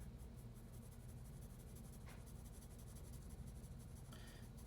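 A pencil sketches a blue jay's beak on paper, giving a steady, quiet scratching and rubbing of graphite that continues throughout, with a brief firmer stroke near the middle.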